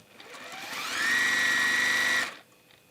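A sewing machine stitches a waxed base drawstring caddy, a steady mechanical whir building up over about a second, holding for just over a second, then stopping abruptly, close and alone.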